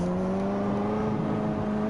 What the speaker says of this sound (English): Since when did an F40 sound rattly?